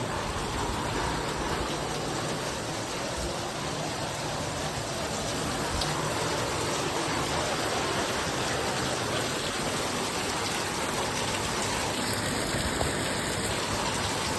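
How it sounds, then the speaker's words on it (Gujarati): Steady rain falls over a farm field of cotton and castor plants, a dense, even hiss of drops that holds at the same level from start to finish with no voices. "પાછો ચાલુ થઈ ગયો છે વરસાદ"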